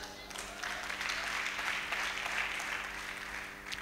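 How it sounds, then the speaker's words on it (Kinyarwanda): Congregation at a church service applauding together, a steady dense wash of clapping held at even loudness for the whole stretch, with no voices standing out. "imana ikomerwa amashyi"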